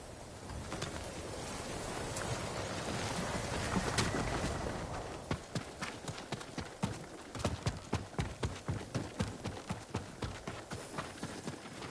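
Horse hooves clip-clop at a steady trot in the video game Ghost of Tsushima, the rhythmic strikes emerging from a broad rushing ambience and carrying on evenly, with birds faintly in the background.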